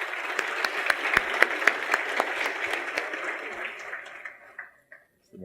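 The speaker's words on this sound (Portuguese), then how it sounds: "Uma salva de palmas." An audience at a tech conference panel greets a speaker coming on stage with steady, dense applause that holds for several seconds, then thins and fades out toward the end, with no talk over it.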